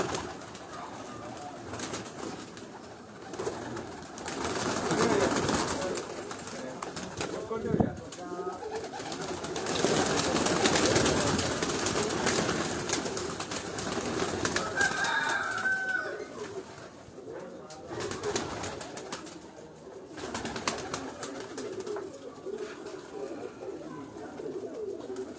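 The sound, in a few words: pigeons cooing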